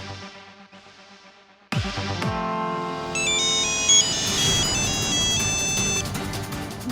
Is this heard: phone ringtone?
yes